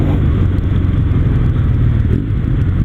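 Kawasaki W800 cafe racer motorcycle with a full beat exhaust, EJK tuner and K&N pod filters in place of the airbox, its engine giving a loud, steady, close low rumble throughout without any speech.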